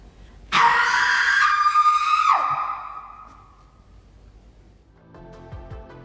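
A person lets out a loud, sustained scream from a movie scene, then trails into a fading sigh-like tail before quieter sound returns.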